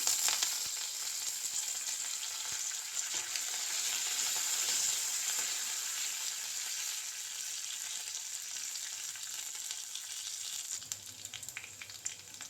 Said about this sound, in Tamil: காஞ்ச மிளகாய் கொஞ்சம் சின்ன வெங்காயம் போட்டுக்கலாம் கொஞ்சம் கருவேப்பிலை போட்டுக்கலாம்